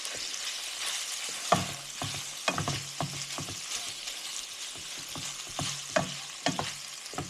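Ground beef browns in a pan for a creamy beef, green bean and macaroni dish, giving a steady sizzle with repeated scraping and stirring clicks, close and moderately loud, with no talk.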